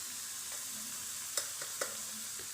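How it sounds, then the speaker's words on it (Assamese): Onions and spices fry in a pan with a steady, faint hiss of sizzling oil, broken by a few light clinks of stirring, close and without talk. "মোৰ এতিয়া পিঁয়াজখিনি প্ৰায় ভজা হৈয়ে গৈছে"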